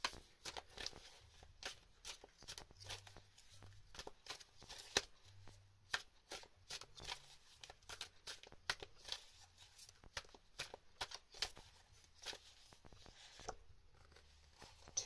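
Druid Craft tarot deck being shuffled by hand, a steady patter of soft rapid card riffles and slaps, close and fairly quiet with no talking.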